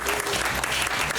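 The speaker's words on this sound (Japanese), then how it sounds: "拍手してくれたりもすごいね" Audience clapping at a live idol concert in a hall in Japan, dense and steady applause from a crowd, close and fairly loud with no break.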